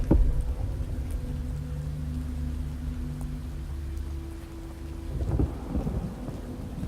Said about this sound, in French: Ça refait le tonnerre.